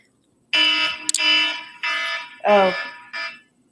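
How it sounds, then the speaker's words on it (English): A loud electronic flash flood emergency alarm sounds in repeated harsh bursts, with a brief spoken exclamation partway through. "my alarm went off."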